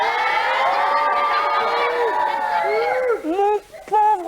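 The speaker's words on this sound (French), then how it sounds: "J'écoute des applaudissements." A crowd of children cheers and shouts in a loud, continuous wave, excited voices rising and whooping throughout.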